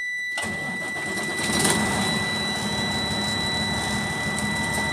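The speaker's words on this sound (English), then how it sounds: "Clutch in, pop it in neutral, start the engine." A truck's diesel engine idles steadily just after being started during a CDL pre-trip air brake check, a continuous close mechanical drone with a high whine running throughout.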